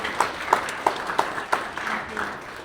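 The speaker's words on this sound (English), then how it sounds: "Maybe give her a round of applause, please." Audience at a book launch on Rota breaks into applause, a burst of claps with sharp peaks that fades over a few seconds, heard fairly close and alone.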